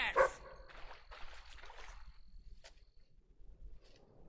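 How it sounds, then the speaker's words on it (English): Dog in the video game Fable 3 giving a sharp yelp followed by soft whimpering and short vocal sounds, fairly faint, with game ambience continuing after it. "Oh, look at the doggy."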